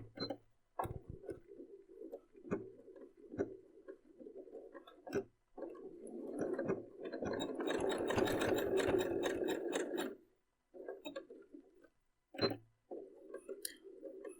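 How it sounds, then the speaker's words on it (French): A sewing machine runs a zigzag stitch on a fabric mask in repeated bursts, with short pauses between runs and one longer steady run in the middle, close and clear. "Et on va coudre ça avec un point zigzag."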